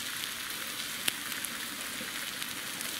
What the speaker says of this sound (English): There they are sizzling away. You can actually hear them sizzling.